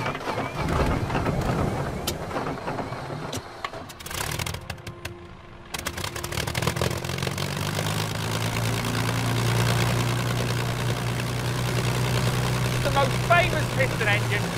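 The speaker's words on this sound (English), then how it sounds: "It's the Rolls-Royce Merlin, right? The most famous piston engine ever." A Rolls-Royce Merlin WWII piston aircraft engine cranks and catches after a pause, then settles into a loud, deep, throbbing run that holds steady, with talk heard early on.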